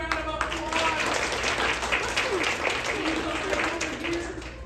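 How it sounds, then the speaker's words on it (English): An audience at a magic show gives a round of applause, a steady wash of clapping that holds for several seconds with voices mixed in underneath. "Give her a big round of applause."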